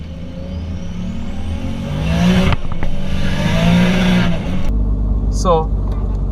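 A turbocharged car boosting on 10 psi roars loud and close, engine revving with a tire-spinning whine, the note rising and dropping before cutting to a lower rumble as a voice talks over it.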